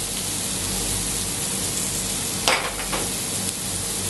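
Oil sizzles steadily in a pan for a pepper steak sauce, a soft continuous hiss with a brief sharper crackle and stir partway through.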